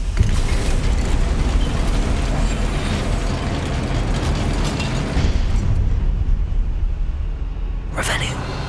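A Confringo fire spell explodes in Hogwarts Legacy, a loud sustained blast with rumbling low end that rolls on for several seconds, followed by a brief bright flare near the end.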